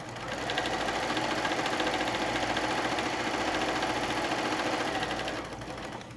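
A sewing machine runs steadily as it stitches layer-cake quilt pieces together, a close, continuous mechanical whir with a rapid needle rhythm that holds for several seconds and then slows near the end.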